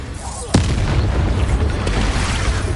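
A Bombarda spell explosion in the Hogwarts Legacy video game lands as one sudden, loud boom amid ongoing combat noise, followed by a sustained rumbling wash of sound.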